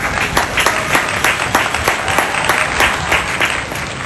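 An audience at a project presentation in Porto-Novo applauds a speaker, dense steady clapping from many hands filling the room evenly and loudly throughout, without pause.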